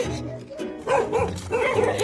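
A dog barking and yipping in a string of sharp, repeated barks, fairly close, with a short whimpering quality between bursts.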